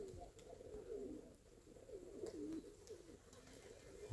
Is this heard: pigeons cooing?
yes